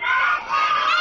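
Children at a 2011 birthday party shout and cheer together in a loud, continuous burst, with a brief dip midway before the group noise swells again.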